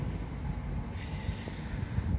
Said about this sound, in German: Der extra lange Zug.